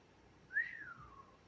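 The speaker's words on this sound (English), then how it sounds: "That wasn't a very good whistle." A single short human whistle, a thin rising-then-falling note lasting under a second, close and fairly faint against a quiet background.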